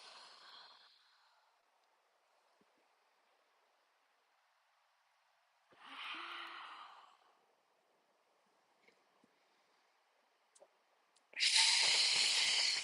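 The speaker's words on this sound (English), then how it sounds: "Inhale and exhale. Curve the back. Push the air out." Slow breathing during a qi gong exercise: a soft breathy exhale fades at the start, another airy breath rises midway, and a longer, louder forceful exhale pushes out at the end, with near silence between.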